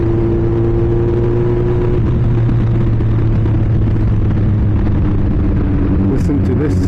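A fast motorcycle engine revs loud and close through downshifts, a continuous throaty drone that rises and falls, with a few sharp pops near the end.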